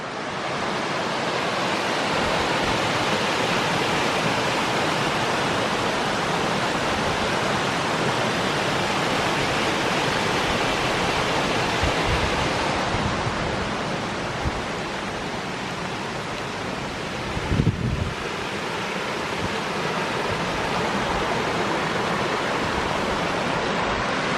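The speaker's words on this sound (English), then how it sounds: "this is Hatch Brook Waterfall where I'm stood at now" A steady, heavy roar of rushing water pours down without a break, loud and close: Hatch Brook Waterfall in Brinscall, Lancashire, in full flow after heavy rain.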